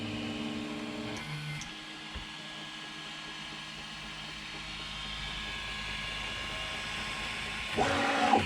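A Prusa MK2S 3D printer whirs with steady stepper-motor tones and a faint fan hum during calibration, fairly quiet and continuous, with a louder burst of motor noise near the end.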